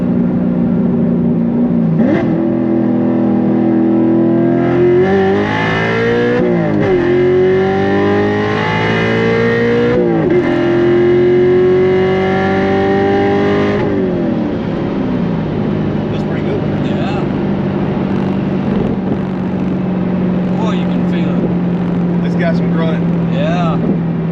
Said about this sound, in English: So slow down and do a little bit of a pull. We'll see what this thing feels like.